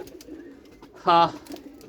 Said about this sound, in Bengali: কত সুন্দর কবুতর দেখেন